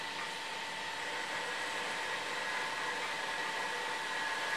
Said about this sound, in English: the saw should slowly feed through the workpiece